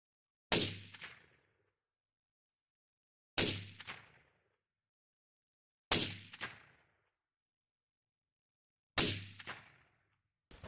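Four sharp, loud rifle shots from a PSA AR-15 firing reloaded ammunition at targets, spaced about three seconds apart, each with a quick decaying echo and silence between, no voices.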